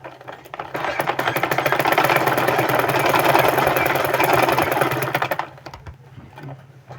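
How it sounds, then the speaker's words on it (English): A sewing machine stitches down the fabric of a men's pants cross pocket in one steady, fast, close run of about five seconds, then stops, leaving faint handling noise. "we stitch, just stitch this down to hold it for a while"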